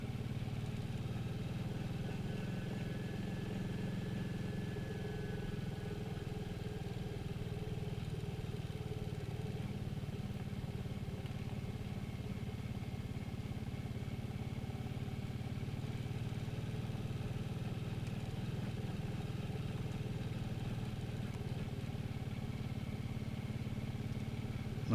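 Motorcycle riding along a green lane near Farleton Crag, a steady, moderately quiet engine drone at even throttle that holds for the whole stretch with no talk.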